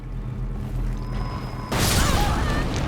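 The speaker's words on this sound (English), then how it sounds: "That was a bigger explosion than I thought." A broadband explosion in Elden Ring Shadow of the Erdtree erupts loud and close partway through, cutting in over a low game ambience with a faint tone and lingering as a rumbling, crackling burst.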